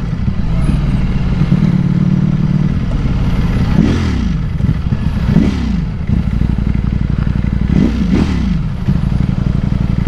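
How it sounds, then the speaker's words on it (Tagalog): A Ducati V4 S sport motorcycle engine rumbles close by, a steady throbbing idle with several sharp throttle blips that rise and fall over about ten seconds. "Tsaka sa dibdib, ang sarap ng kalugkog ng makina nito."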